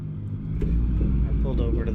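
A Kenworth truck engine rumbles low and steady in American Truck Simulator, a deep, close drone that continues under a voice.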